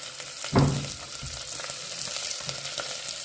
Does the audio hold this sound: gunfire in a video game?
no